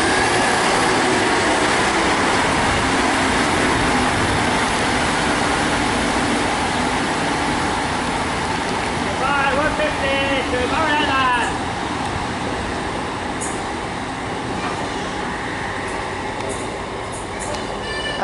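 Arriva Trains Wales Class 152 diesel unit running through Barry Docks, a steady loud rumble of wheels and engine filling the whole stretch, with brief squealing tones midway and a slight easing toward the end; voices faintly present.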